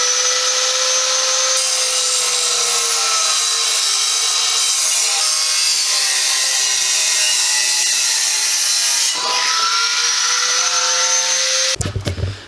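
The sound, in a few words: cutting an exhaust pipe to length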